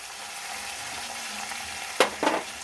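Onions sizzling steadily in hot oil for a Bengali prawn malai curry, with cumin, coriander and ginger paste added, then two sharp louder bursts of sizzle near the end.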